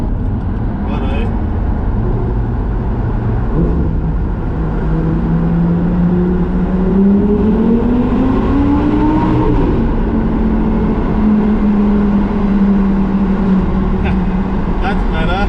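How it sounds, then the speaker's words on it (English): Audi R8 V10 exhaust inside a tunnel, a loud engine drone that rises and falls in pitch as it revs, with someone talking over it. "I'm going to approach a tunnel soon, so hopefully I'll get some nice exhaust sounds"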